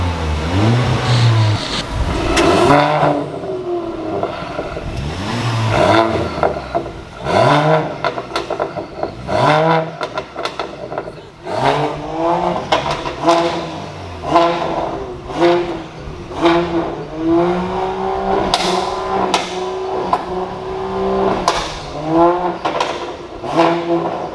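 A car engine revs repeatedly through a loud exhaust, sharp rising bursts of throttle over a steady idle rumble, close by.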